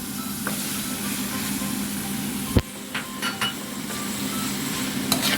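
Squid balls stir-fry with garlic and onion in a pan, a constant close sizzle broken by sharp clacks and scrapes of a spatula tossing the food.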